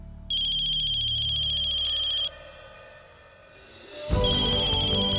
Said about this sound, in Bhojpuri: शुक्र बा कल्याणी के फोन ता है।